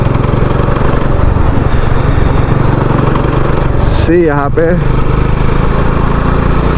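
A Bajaj Dominar 400 motorcycle engine drones steadily and loudly while labouring at slow speed in a high gear, with someone speaking briefly over it partway through.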